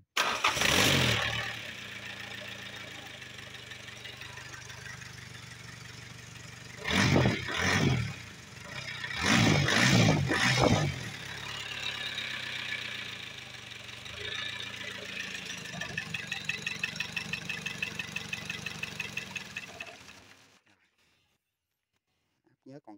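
A used Mitsubishi K4M engine taken off a 025-size excavator, sold together with its pump, is cranked in a few loud bursts. It then catches and runs with a rhythmic, even knock before being shut off abruptly.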